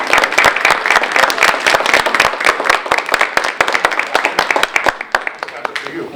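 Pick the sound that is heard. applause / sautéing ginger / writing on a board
applause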